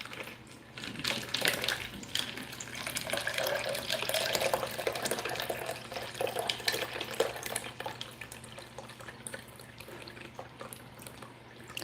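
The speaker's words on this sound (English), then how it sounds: "I'm just trying to empty off some of this water so I can get to these pebbles" Water poured and tipped out of a garden plant pot, a continuous splashing and trickling with small drips and pebble clatter, close and fairly steady throughout.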